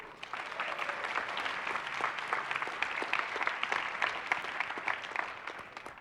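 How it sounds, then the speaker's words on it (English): A conference audience claps steadily for the judges and finalists of a fintech pitch competition, dense applause spread across the room and holding at an even level throughout, with no voices on top. "now give your huge round of applause for both our judges and our finalists"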